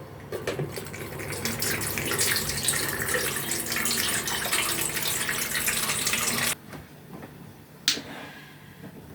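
Pickle brine from a jar of fermented cucumbers pours out steadily through a lid into a sink, a continuous near splashing flow that stops abruptly, followed by a couple of faint clinks.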